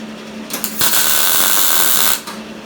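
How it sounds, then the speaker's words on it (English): A welder lays a bead on a rusty crew cab truck door, a loud steady crackling hiss lasting over a second, preceded by a couple of short sputters and fading into quiet. "So I'm just going to go ahead and weld this now."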